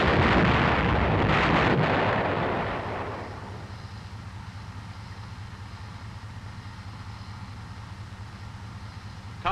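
Main gun of an M551 Sheridan armored reconnaissance airborne assault vehicle firing, a single heavy blast that booms loud for a couple of seconds and then fades into a steady low engine rumble.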